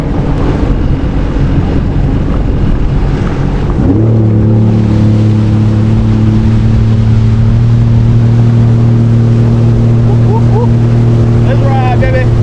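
A jet ski engine drones steadily across the water, its hum shifting to a higher, stronger pitch partway through as it accelerates, with wind and rushing water noise throughout.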